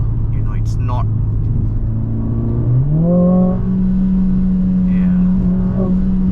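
Mercedes-AMG CLA45S 4Matic+ engine pulling hard under acceleration, a steady droning note that rises in pitch and holds, heard from inside the cabin with people talking over it throughout.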